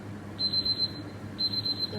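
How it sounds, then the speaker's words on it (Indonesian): Kitchen alarm timer ringing during cooking, two short bursts of rapid high-pitched beeping separated by a brief pause, clear over a faint low background hum. "alarm saya sudah."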